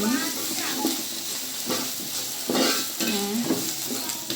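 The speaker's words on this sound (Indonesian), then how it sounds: "masukin saus gochujang. Lalu kita aduk-aduk." Gochujang sauce being stirred in a hot frying pan, with a steady sizzle and repeated scraping strokes of a utensil against the pan, close and clear, and soft talk in the background.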